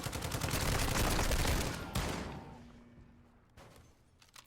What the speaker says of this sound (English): all you need to do is get up close and personal and a couple of shotgun rounds and it's done